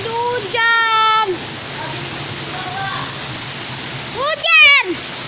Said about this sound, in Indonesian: Hujannya sangat deras.